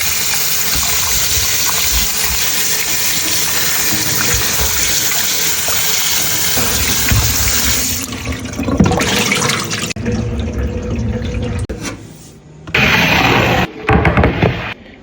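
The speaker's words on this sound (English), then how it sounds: "I'm gonna take these to wash." Tart apples rinsed under a running kitchen tap, a loud steady gush of water that shifts and splashes as the fruit is handled, then cuts off with short bursts of flow near the end.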